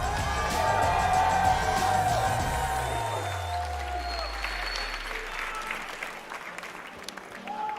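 A large Seattle crowd at a Halo esports championship applauds and cheers loudly throughout, with whoops over the clapping as a low musical sting sweeps underneath and fades.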